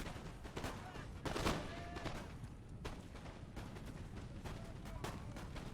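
Musket volleys in Napoleon: Total War, a faint, scattered crackle of shots and distant booms over a battlefield rumble, spread across a wide field with no pause.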